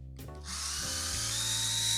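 An electric beard trimmer starts with a brief whir, then runs loudly and steadily with a high buzzing hum, close up.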